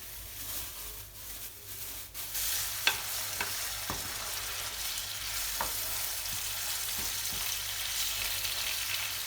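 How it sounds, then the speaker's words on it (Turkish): Half a kilo of minced meat frying in sunflower oil for a Kayseri-style dish gives a steady close sizzle, broken by a few sharp scrapes and clicks as it is stirred in the pan. "Kıymayı biraz kavurduktan sonra fazla kurumadan soğan ve biberlerle buluşturuyorum."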